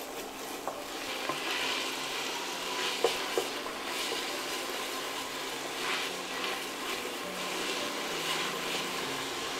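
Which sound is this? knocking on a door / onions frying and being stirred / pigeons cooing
onions frying and being stirred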